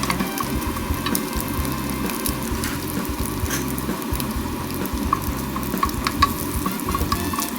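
Kaffir lime leaves dry-roasting in a pan for Thai chicken larb, with a steady dense crackle and scrape close by, small brighter ticks scattered throughout, and no talking.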